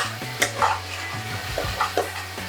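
Spice paste for prawn kalia curry frying in a pan while being stirred, with a low sizzle under several scraping strokes of a spoon against the metal and a few sharper clinks.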